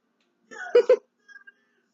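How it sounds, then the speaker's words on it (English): A baby with a stuffy nose has the hiccups: two quick, tight little hiccup sounds close together, then a fainter, smaller pair, nearby in an otherwise quiet room. "He's got the hiccups and a stuffy nose."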